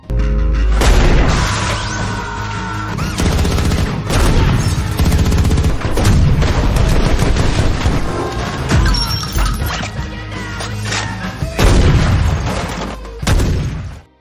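A dense, loud barrage of gunfire and booming blasts fills a battle scene in an action film, with shots overlapping continuously and no pauses.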